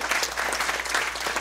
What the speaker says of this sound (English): give a round of applause to Ms. Hansen for dual school?